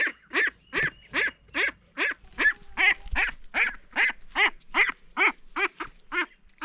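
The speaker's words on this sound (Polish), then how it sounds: "Patrzcie co się stało, dzieje z kaczuszką." A duckling on a farm quacks repeatedly in a steady, evenly spaced series of loud, close, nasal calls, about three per second, with faint background rumble.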